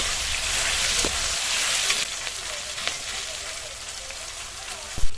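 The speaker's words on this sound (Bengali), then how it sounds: "চালতাটা দিয়ে কিন্তু বেশ কিছুক্ষণ একটু সময় নিয়ে ভেজে নিতে হবে" Slices of elephant apple fry in hot oil with mustard, fenugreek and fennel seeds, a dense, steady sizzle and crackle with a few sharp pops, close and loud throughout.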